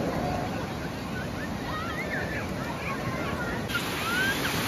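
Sea waves at a Konkan beach roar as a continuous broadband wash with wind buffeting, steady and close without breaks.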